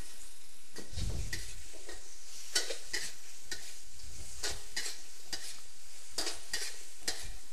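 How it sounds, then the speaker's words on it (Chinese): Pork ribs and green peppers tossed in sweet and sour sauce in a wok, with a steady soft sizzle under repeated scraping stirs of a spatula against the pan, moderately quiet and close. "炒至排骨完全吸附酱汁"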